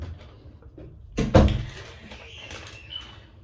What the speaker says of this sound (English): let me go ahead and close the door